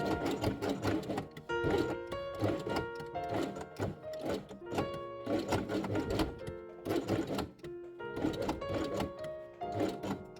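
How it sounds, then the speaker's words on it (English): A sewing machine stitches small felt pieces along their edges in steady bursts of rapid mechanical chatter, pausing briefly between runs as each piece is turned. "place small elements on top and sew each one along the edge, matching the color of the thread to the color of the felt"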